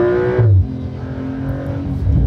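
A Porsche 911 GT3 flat-six engine revs high toward 7,500 RPM with a strong whining tone, then drops off and settles into a lower, steady drone before picking up again.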